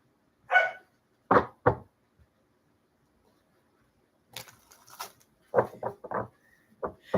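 A dog barks a few times indoors, short sharp yelps in small clusters separated by quiet gaps, fairly close and clear.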